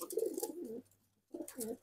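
A Tomprang pigeon coos in low, rolling bursts, a pause of quiet, then another throaty coo, close and clear.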